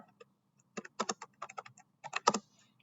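A sudo command typed on a computer keyboard: sparse, close keystroke clicks in two quick bursts with short pauses, with no talking.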